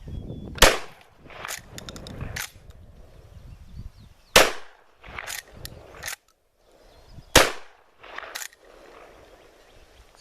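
A Model 87 lever-action shotgun fires three loud, sharp shots outdoors, spaced a few seconds apart, with metallic clacks of the lever cycling between them.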